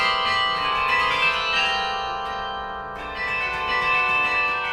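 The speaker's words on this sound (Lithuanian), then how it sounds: "suskambo kilnojamas karilionas atkeliavęs iš Gdansko" A mobile carillon brought from Gdansk rings out with steady, sustained bell tones, a dense wash of overlapping chimes filling the air without a break, bright and resonant throughout.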